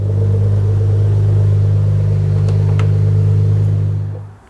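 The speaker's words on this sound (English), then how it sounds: "So now I'm going to go and start the car and get it up to operating temperature." A Porsche 986 Boxster track car runs at a steady idle, its deep, even engine rumble loud and close, then tapering off at the very end.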